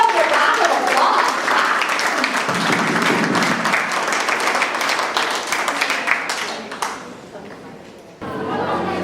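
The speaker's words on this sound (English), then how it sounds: "You can give yourself a round of applause." An audience at a fundraiser event bursts into applause, a thick wash of clapping mixed with cheers and chatter that gradually thins out and fades, after which a voice begins speaking.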